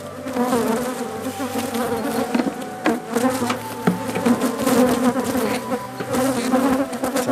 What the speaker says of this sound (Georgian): ძალიან ბევრმა ფუტკარმა მიკბინა.